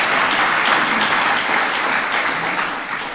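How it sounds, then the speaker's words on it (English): An audience at a presidential Precision Medicine Initiative event breaks into steady, dense applause, loud at first and tapering slightly toward the end, with no talking over it. "Nothing wrong with clapping about that."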